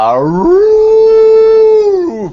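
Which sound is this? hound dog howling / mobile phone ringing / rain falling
hound dog howling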